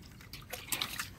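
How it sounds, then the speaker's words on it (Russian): Water from a borehole runs and drips through a garden hose outdoors, a quiet, irregular trickle with soft spattering bursts, close by and without talk. "Мы сейчас уже воду со скважины льем."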